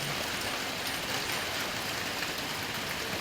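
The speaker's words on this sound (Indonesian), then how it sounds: "Dari semalam hujan terus sampai sekarang." Steady rain pours down in a dense, continuous hiss, even and unbroken, with no voices.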